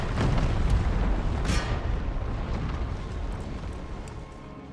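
Artillery shells strike in Empire Total War, a loud booming impact up front followed by rumbling blasts that fade away, with a sharp crack in the middle and no talk.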